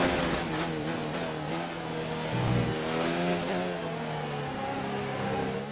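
Formula 1 car engine in the F1 2019 video game with a brand-new power unit, a steady high-pitched whine pulling away and climbing through revs, loud and continuous.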